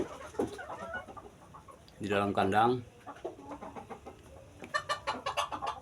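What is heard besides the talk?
bantam chickens clucking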